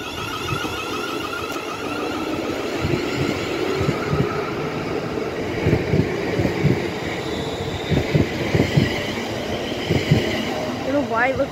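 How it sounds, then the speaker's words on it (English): A ScotRail train departing for Neilston rumbles steadily through the clip, with rhythmic clunks of wheels over rail joints building in the middle and wind buffeting the microphone; a voice speaks faintly over it. "3, 2, 1, 1, departing for Neilston."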